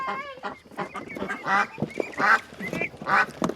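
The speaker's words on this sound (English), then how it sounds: "So we got some baby ducks and some 4 big ducks." Several duck calls, honking and quacking in irregular bursts, come from a group of baby ducks and four big ducks, fairly close and loud over a few seconds.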